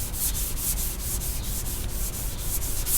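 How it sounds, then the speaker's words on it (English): A car body panel is hand-sanded with a closed hand, giving a steady, close, rough scratching hiss with faint rhythmic strokes throughout and no voices. "don't never sand with an open hand like this here, because you're gonna put grooves in it."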